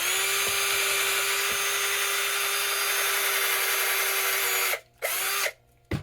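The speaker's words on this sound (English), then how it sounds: "I'm just going to drill some holes." A power drill whines steadily at high speed, then stops briefly twice near the end as it bores through material. Loud and close, no speech.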